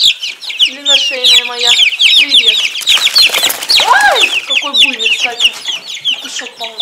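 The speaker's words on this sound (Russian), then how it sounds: "а петушок черненький" A black rooster crows loudly and clucks repeatedly up close in a poultry yard, with a steady stream of other hens' calls and a voice talking over them throughout.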